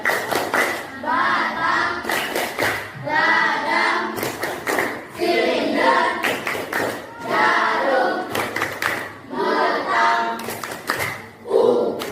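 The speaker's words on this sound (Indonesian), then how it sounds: "Selanjutnya kita tepuk-tepuk bentuk magnet ya." Children in a classroom perform a rhythmic clap pattern for a lesson about magnets, bursts of hand claps and chanting voices alternating in repeated short phrases, loud and close.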